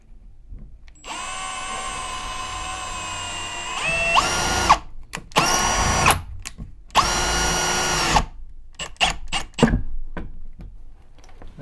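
Power drill driving fluted-tip screws into plywood, whining in several bursts: one long run, then shorter starts and stops with brief pauses between, close and loud with no talking.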